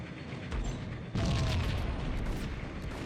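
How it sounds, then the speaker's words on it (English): Grenade launcher explosions in the Max Payne video game: a dense, loud booming rumble that jumps up partway through and sustains as a continuous blast roar. "Oh, I got the grenade launcher back."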